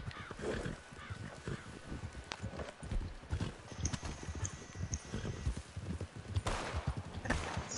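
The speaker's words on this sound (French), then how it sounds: "Attendez, attendez mon cheval." Horse hooves clip-clop in Red Dead Online, a brisk, steady run of close hoofbeats with faint game ambience and a few scattered background sounds.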